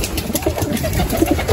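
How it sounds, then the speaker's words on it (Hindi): Pigeons cooing in a backyard animal enclosure after rain, low soft coos recurring through a steady murmur of outdoor background noise. "कबूतर हमारे सारे इधर बिजी हैं।"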